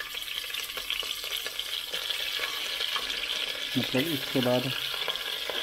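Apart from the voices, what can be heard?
chicken lightly frying in ghee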